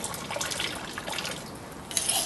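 Water is poured off wet sand after soil liquefaction, a faint, soft trickling and splashing over a few seconds that grows slightly louder near the end.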